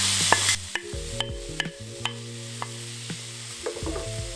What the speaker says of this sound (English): At this point we want to keep the heat on medium and just soften the onions